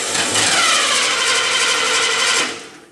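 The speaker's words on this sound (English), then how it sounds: "Crank the engine." An engine is cranked by its starter motor during a starter health test, giving a loud, steady mechanical whir that holds for about two seconds before stopping abruptly.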